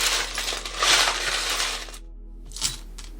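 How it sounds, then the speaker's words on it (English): Small divination charms are cast onto a surface, a close clattering rush of metal and small objects tumbling and settling, followed by a short silence and a couple of faint clinks at the end. "think of those numbers as I get ready to cast the charms"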